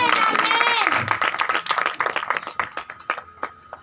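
A church congregation claps for a testimony about healed eyesight, sharp individual claps building into a ragged rhythm while a preacher's voice carries over them at the start.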